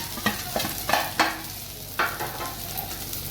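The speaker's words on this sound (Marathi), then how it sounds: "आणि टाकूया खिचडी आपली बघा" Sabudana khichdi with crushed peanuts and potato is stirred in a hot pan, with several scraping spoon strokes over a soft, continuous sizzle.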